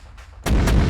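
Mortars fire in an Arma 3 battle: after a brief quiet moment, a single sudden heavy boom bursts out loud and close and rumbles on to the end.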